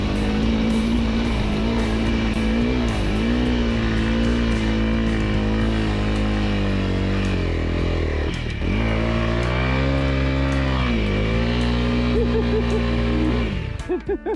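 A Honda CRF300L on stock tires labors through deep sand, its engine a loud, continuous drone with rising and falling revs and a sharp dip midway before climbing again, recorded up close.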